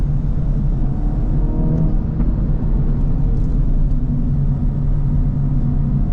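A 2025 Acura Integra Type S with variable exhaust accelerating, heard from inside as a steady, loud low rumble and road drone that holds evenly throughout, with no talking.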